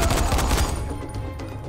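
A rapid burst of gunfire in Dying Light: The Following, loud and dense at first, then thinning out into a few fainter trailing shots.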